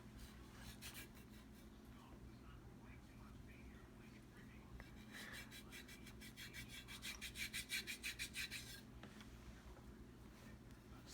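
A metal foot file covered in bumps scrapes rhythmically across skin during a pedicure, the rasping strokes steady and close, quickening into rapid back-and-forth passes near the end, with soft whispering voices underneath.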